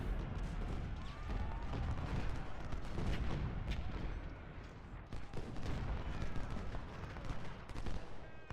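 Continuous rumbling artillery and musket fire from a battle in the Ultimate General: Civil War video game, dense overlapping booms and crackles with no clear gaps, moderately loud throughout.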